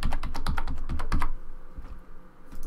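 A password is typed on a computer keyboard in a rapid burst of close keystrokes, then a pause and a couple of faint taps.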